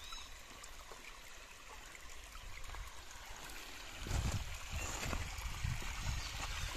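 Water in an outdoor stream runs over stones as a continuous rushing current, steady and moderately close, growing a little louder partway through.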